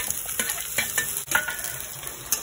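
Vegetables stir-fried for veg noodles, carrot, capsicum and green chilli, tossed in a hot pan, giving a steady sizzle broken by repeated close scrapes and clinks of a utensil against the metal.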